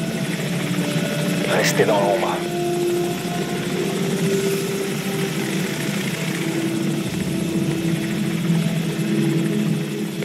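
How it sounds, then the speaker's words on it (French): A loud, steady enemy helicopter drone in a video game dominates throughout, close and continuous, while a voice speaks briefly over it. "Hélicoptère ennemi, baissez-vous!"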